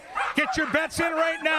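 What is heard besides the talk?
dogs barking at the starting gate of a dog race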